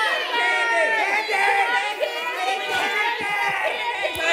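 Young audience at a kids' show shouting and cheering together, a loud, dense crowd of children's voices rising and falling continuously up close.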